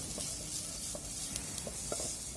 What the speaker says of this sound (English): We just have to ensure that we mix it very properly and nicely.